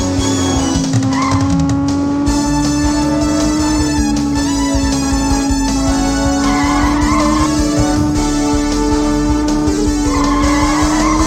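Cars racing in the PS1 racing game Choro Q2, a steady droning engine tone under loud, sustained tire squeals and skids with game music alongside, constant and close with no talking.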